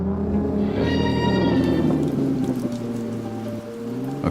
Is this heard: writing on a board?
no